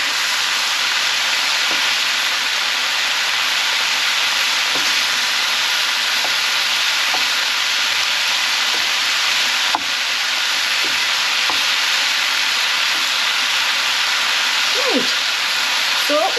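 A large leek frying and wilting down in a pan gives a steady, even sizzle that runs throughout, with occasional small clicks and stirring sounds on top, and no one speaking.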